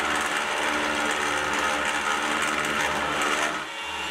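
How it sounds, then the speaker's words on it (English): A milling machine fitted with a carbide endmill cuts aluminium, producing a loud, continuous high-pitched buzzing whine that holds steady for several seconds before easing slightly at the end. "I haven't run carbide in this size on this mill before, so I was testing it to see what speeds worked and what didn't work."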